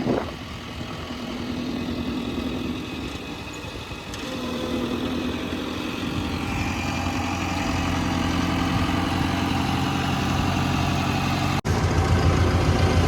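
A tractor engine with a broken chain runs steadily nearby while ploughing sand, a low rumbling idle that grows slightly louder over time, with a brief sharp click near the end.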